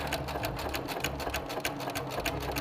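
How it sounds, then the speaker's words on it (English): A sewing machine runs steadily while stitching a quarter-inch seam on a quilt panel, with back stitches at the start; the close, even mechanical whir holds throughout, with no talking over it. "I'm gonna do a couple back stitches to make sure it stays in place"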